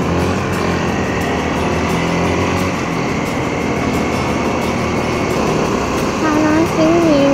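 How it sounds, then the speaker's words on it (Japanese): A Kawasaki D-Tracker 150 motorcycle drones steadily with a high engine whine as it is ridden, and its pitch rises near the end. "トラッカー150に乗ってきました。"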